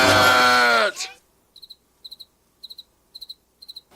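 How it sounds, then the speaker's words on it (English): A cricket chirps in short, evenly spaced bursts of two or three pulses each, clear against near silence, after a loud voice shouts and falls quiet. "the cricket stops chirping"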